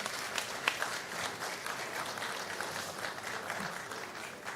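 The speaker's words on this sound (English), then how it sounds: "Please put your hands together for him." Audience applause at Ghana's national AI strategy launch, welcoming a UNESCO head of office to the podium: steady, dense clapping from a large crowd in a hall, moderately loud and continuous throughout.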